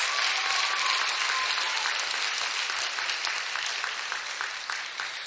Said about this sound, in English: Let's give them one more round of applause for their great answers and great outfits.